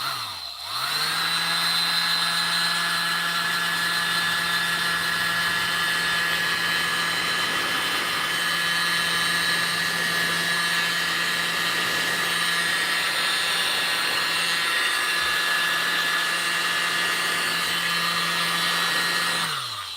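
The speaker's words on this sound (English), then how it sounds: "I need space to use this blower" A handheld blower runs steadily and loudly for about twenty seconds, a continuous whirring drone with a humming motor tone, pushing fluid acrylic paint into a bloom pattern on a coaster.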